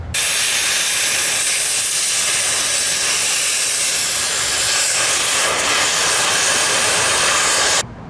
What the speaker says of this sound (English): I'm going to flame cut them out and then grind the welds flat.